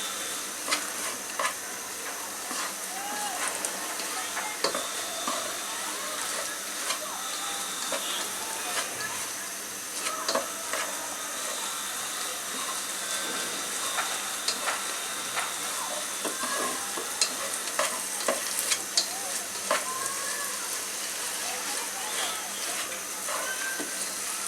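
At a sweet shop, a sweet-maker stirs and cooks chhana in a pan over heat, giving a long, even sizzling hiss broken by frequent scraping clacks of the stirrer, with occasional talk in the background.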